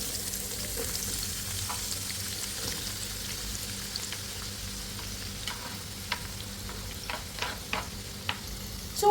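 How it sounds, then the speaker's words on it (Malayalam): Onions sizzling and frying in hot oil for chicken chukka, a steady crackling hiss with occasional sharp pops and stirring scrapes, close and alone. "ചൂടായ എണ്ണയിലേക്ക് ഞാൻ സവാളയൊക്കെ ഇട്ട് കൊടുത്തിട്ട് കുറച്ച് നമുക്ക് 2 പാർട്ടായിട്ട് വറുത്തെടുക്കാം കേട്ടോ"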